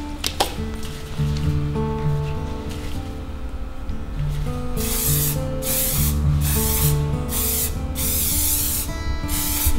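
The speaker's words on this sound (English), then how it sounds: "I'm going to give it a spray so I can start layering it." Fixative sprayed over a pastel drawing from an aerosol can, heard as a series of loud hissing bursts of varying length, close to the microphone, after a quieter opening stretch.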